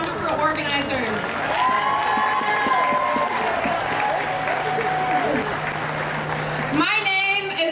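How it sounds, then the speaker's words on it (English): Crowd at the 2018 Women's March in Wilmington applauding speakers and organizers, a sustained dense clapping with some cheering, a voice carrying over it before a fresh burst near the end. "Can we give another round of applause for all of our speakers today and all of our wonderful organizers."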